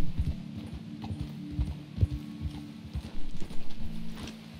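Horse hooves clip-clopping in Red Dead Redemption II, a steady low rhythm of hoofbeats with faint mechanical rattles, close and without talk.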